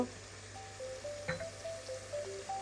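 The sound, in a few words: spice paste being fried (koshano) in a pan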